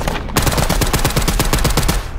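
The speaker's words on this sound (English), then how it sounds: "Listen to the sound of that MP40." MP40 submachine gun firing in the World War II shooter Hell Let Loose, one sustained burst of rapid, evenly spaced shots, loud and close with no talking.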